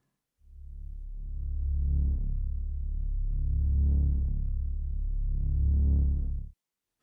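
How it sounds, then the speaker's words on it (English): Unprocessed Moog synthesizer drone with no effects, a steady low-pitched tone sustained for about six seconds with slow swells in its upper harmonics, loud and alone. "this is with nothing on it coming from the Moog, just the straight kind of drone"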